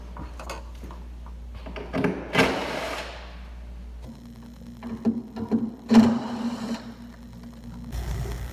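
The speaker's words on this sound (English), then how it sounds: "Start out by removing the bolts in the rear portion of the bumper using a T30 Torx bit." Bolts on the rear portion of a Honda Civic hatchback bumper being removed with a T30 Torx bit, giving a few short ratcheting and rubbing bursts and a brief buzzing run near the middle, close and fairly quiet, with no talk.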